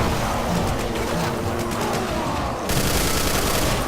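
A charged black hole generator weapon fires in Project Brutality Doom, a loud, dense roaring blast of continuous rumbling energy that sustains throughout, with a sharp surge of intensity partway through and no voices.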